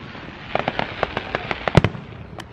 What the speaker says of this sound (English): Hear fireworks?